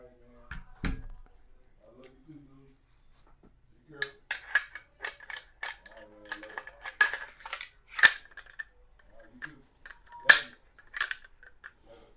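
Metal parts of a rifle clatter and click as the bolt carrier group and receivers are handled and fitted back together, a loose run of close, sharp knocks and snaps, sparse at first and then busier.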